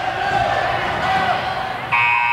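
A high school boys basketball game's end-of-quarter buzzer sounds loudly near the end, cutting in over gym crowd noise with a steady electronic blare.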